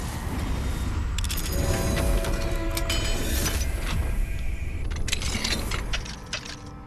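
Alohomora unlocking spell in the Hogwarts Legacy video game, a close mechanical jangle of metallic clicks and rattles that shimmers for several seconds before fading out.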